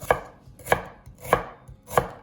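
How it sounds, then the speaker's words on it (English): Onions cut into strips with a knife on a cutting board, four crisp, evenly spaced chops about half a second apart, close and clear with no talk. "Peel 2 medium onions, then cut them into strips."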